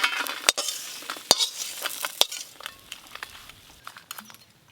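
Crab fries with spices in a pan, a soft sizzle beneath repeated sharp scrapes and clicks of a spatula stirring against the metal, close and irregular.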